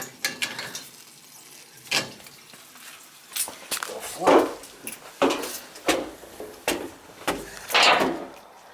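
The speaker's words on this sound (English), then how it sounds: "It's the check valves rattling, making noise." Check valves in an air-filled boiler zone rattling, giving irregular clattering and ticking bursts with mechanical knocks, moderately close amid a noisy room hum.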